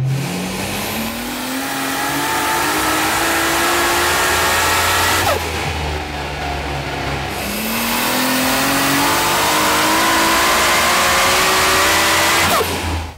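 A roughly 1000 HP RB26-engined Nissan GT-R revs hard on a dyno in two long pulls, the pitch climbing steadily each time before dropping off. Loud and close.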